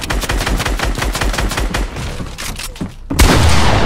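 Rapid, loud bursts of gunfire from Fortnite shotguns and other weapons, a dense run of sharp repeated blasts, then a brief lull and one heavy close boom near the end.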